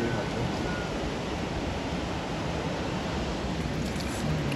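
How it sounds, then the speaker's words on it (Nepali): A mountain river rushes past near Tatopani on the way to Muktinath in Mustang, a loud, dense, unbroken roar of water filling the whole stretch with no voices. "यहाँनिर यस्तो खोला बगिरहेको छ।"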